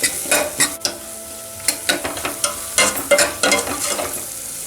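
Onion, garlic and tomato sauté in a pan with sambar powder for a Tamil karunai kizhangu sambar, a soft steady sizzle broken by repeated sharp scrapes and clinks of a stirring spoon against the pan.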